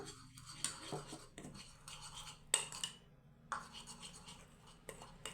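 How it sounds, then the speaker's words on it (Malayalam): Metal spoon scraping and stirring rice flour face pack in a bowl, a quiet, irregular series of scratches and clinks close by with brief pauses between strokes. "അപ്പം ഞാൻ ഒരു സ്പൂൺ അരിപ്പൊടി ഇട്ട് കൊടുത്തിട്ടുണ്ട് ഇനി നമുക്കൊന്ന് മിക്സ് ചെയ്ത് നോക്കാം"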